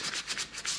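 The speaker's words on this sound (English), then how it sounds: "a little bit of sanding around the outside with like a finishing sandpaper" Fine P240 sandpaper rubbing back and forth on a carved wooden love spoon, about four short hissing strokes in a steady rhythm, close and soft.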